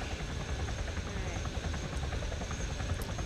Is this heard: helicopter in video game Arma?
yes